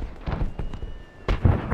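Firecrackers popping in Batman Arkham Asylum, a rapid series of sharp bursts and bangs with louder pops toward the end.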